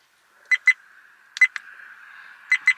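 A Viofo A129 Plus Duo dash cam fitted in a 1957 GMC gives short electronic beeps in pairs, three quick double chirps, close and clear over a faint hum.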